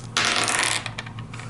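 Two dice rolled for a Pathfinder tabletop role-playing game, a loud clattering rattle that tumbles briefly before settling into a few small ticks, with no voices.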